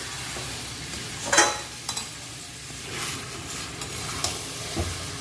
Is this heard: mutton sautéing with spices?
yes